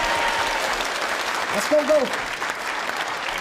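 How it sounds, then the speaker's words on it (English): Late-night television studio audience applauding in a dense, steady wash of clapping from start to finish, with a short spoken phrase from a man in the middle. "Give him a round of applause"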